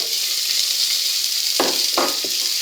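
Onions hit very hot oil for a mushroom and onion quiche, producing a constant bright sizzle with three sharper bursts of spitting near the end.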